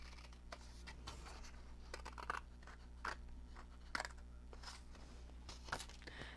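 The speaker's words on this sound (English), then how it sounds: "I'm going to cut this piece off." Scissors cutting a piece of paper: a series of crisp snips and papery crunches at irregular intervals, close and quiet over a faint steady hum, with no talking.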